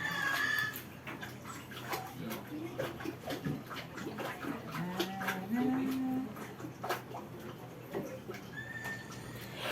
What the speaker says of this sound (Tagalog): Pasok yung tubig sa bahay.